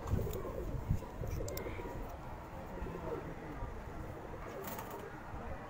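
A pigeon coos softly among the birds of a pigeon keeper's loft, the low murmuring call faint against steady background noise.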